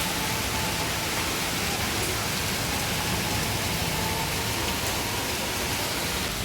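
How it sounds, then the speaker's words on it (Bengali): Dense, continuous rain hiss, steady and even from start to finish with no other sounds. "এখন আবার যাক বৃষ্টি হচ্ছে ভালো লাগছে বেশ"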